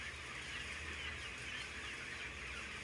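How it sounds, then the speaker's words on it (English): Many chickens in a crowded industrial barn cluck and murmur as a constant, faint, dense chorus with no single bird standing out. "This is how modern-day chickens are raised."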